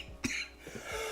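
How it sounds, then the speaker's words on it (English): A single sharp cough bursts out near the mic, followed by a few softer throat-clearing coughs spread over about a second, with no talking. "Sorry for the excessive coughing."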